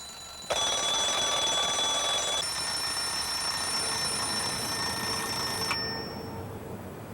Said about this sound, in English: We know it's time to get up when the alarm clock starts to ring.